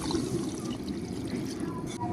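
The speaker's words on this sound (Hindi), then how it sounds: "1 किलो पानी डालेंगे" Water poured steadily into a cooking pot of peas and carrots for a village-style matar pulao, a continuous close splashing rush lasting the whole moment.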